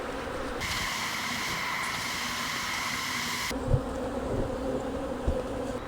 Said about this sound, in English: Bees flying all around here.